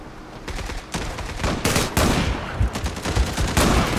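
Rapid gunfire from the video game Zula rattles in dense, loud bursts of shots, nearly continuous and close.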